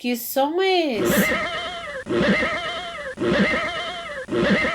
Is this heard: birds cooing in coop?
no